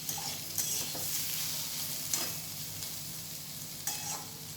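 Ivy gourd (kundri) stir-frying in a pan, a steady close sizzle with occasional sharp scrapes and clinks of the spatula stirring, no voices.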